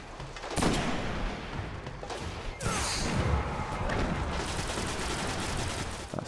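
Rifle fire in the shooter game Destiny comes as dense, loud bursts of shots and blasts that crack through a busy battle scene across the whole stretch, with no talk.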